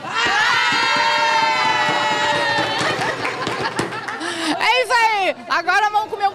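A crowd at a happy-hour gathering in a bakery bursts into loud, sustained shouting and cheering, with high voices and whoops, then breaks into excited chatter and laughter.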